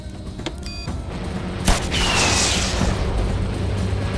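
A missile launched from a drone in a Hollywood action movie: a sharp mechanical click and bang followed by a sustained, loud whooshing roar as the missile streaks away.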